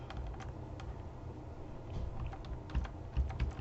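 Computer keyboard keys pressed while moving through a Roblox Studio game, giving a scatter of soft, irregular clicks close by over low background rumble, with no voices.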